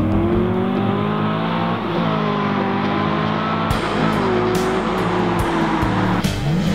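A loud, throaty LQ4 V8 in a 1981 Camaro Z28 revs hard while burning rubber in second gear, tire squeal over a continuous roaring drone that rises and shifts, close by with no talking.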